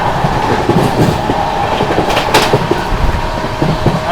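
Alipurduar–Panvel Amrit Bharat Express being overtaken, heard as a close, continuous rolling roar with rhythmic clickety-clack of wheels over rail joints and a brief hiss midway.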